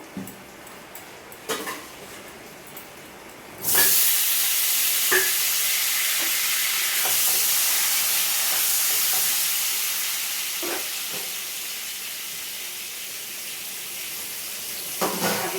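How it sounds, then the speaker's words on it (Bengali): Potatoes drop into hot oil in a kadai for a veg biryani and break into a loud, sustained sizzle after some quiet clatter. The frying hiss stays steady and close, with occasional clinks of a spatula and no talking. "এবার আমি ওটা আরেকটু তেল দেবো কড়াতে, দিয়ে আলুগুলো ভেজে নেবো।"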